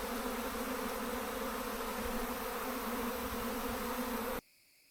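A swarm of honey bees pours out of a nuc hive on a hot summer day, a dense, continuous buzzing drone close by that cuts off abruptly at the end.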